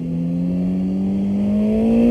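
A Suzuki GSX-S1000 motorcycle engine on the road in Réunion holds a steady, smooth drone and slowly climbs in pitch as it accelerates, loud and close, with no talk.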